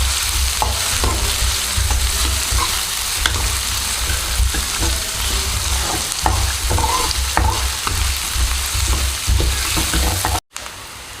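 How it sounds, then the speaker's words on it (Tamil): Onions frying in oil for a brinjal gravy, sizzling loudly and continuously up close, with frequent stirring scrapes and knocks against the pan and a brief cut-out near the end. "நல்லா வெங்காயம் வெந்து வரணும்."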